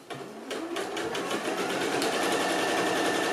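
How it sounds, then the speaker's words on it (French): A sewing machine runs a straight stitch on a large beach bag, producing a loud, continuous, fast whirring chatter that carries on steadily throughout. "Donc là c'est de la couture au point droit."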